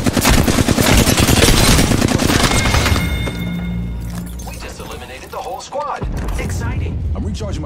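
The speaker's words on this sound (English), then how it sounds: "They're shooting at me." Rapid automatic gunfire from Apex Legends fills the opening seconds, loud and dense in sustained bursts, then easing into scattered shots and game effects with a voice speaking over it.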